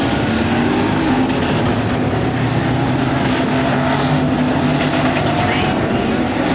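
Stock cars roar off together at the green flag of a flagpole race on a destruction-tour track, a dense, loud, continuous wall of engine noise with no letup.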